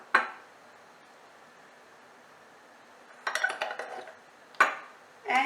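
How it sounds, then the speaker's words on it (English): Vanilla syrup of vanilla sugar and water stirred with a spoon, giving bright metallic clinks and scraping against a glass or bowl in a few short bursts, close with quiet pauses between. "And like you did with the ginger syrup, you stir."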